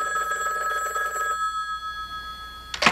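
A telephone bell rings in a steady electronic trill for over a second, then stops, leaving a quiet room before a brief sharp noise at the end.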